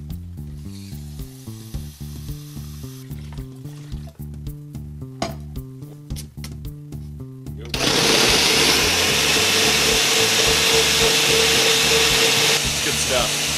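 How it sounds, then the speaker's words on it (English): A blender whirs loudly and steadily as it purées blueberries, huckleberries, banana, Herbalife formula powder and water. Before it starts there is a quieter stretch of rhythmic, pulsing background sound. "I just open them up, throw them in the blender"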